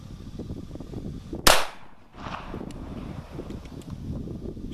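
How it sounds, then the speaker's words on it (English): A CZ 82 handgun fires a single sharp shot in double action outdoors, loud and close, followed by a brief echo and then wind and rustling. "Shooting a double action now?"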